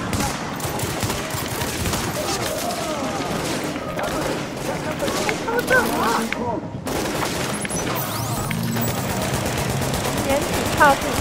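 Rapid, sustained automatic gunfire from a machine gun emplacement in the video game Tom Clancy's The Division, with bursts overlapping other battle noise and players talking over the loud shooting.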